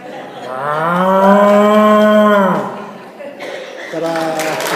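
A person's voice imitates a cow calling, giving one long, loud, drawn-out moo followed by a shorter second moo, performed at a community monthly meeting.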